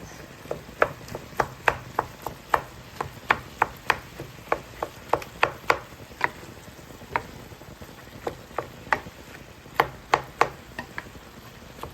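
A knife chops ingredients for homemade turkey or chicken stuffing on a board, steady sharp knocks at roughly one per half second, close up over a soft constant hiss in the background.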